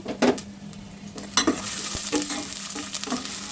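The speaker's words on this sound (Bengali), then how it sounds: "এখন একটু ভেজে নিব" Onions frying in a little oil for a broken-rice khichuri, with a bright steady sizzle, several sharp spatula scrapes and stirring clatters against the pan, close up and with no voices.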